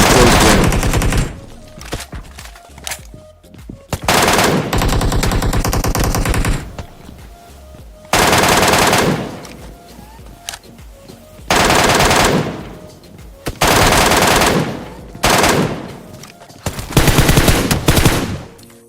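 Fully automatic rifle fire in PUBG Mobile, loud sustained bursts of rapid shots lasting one to three seconds each, separated by short pauses, close and dominant throughout.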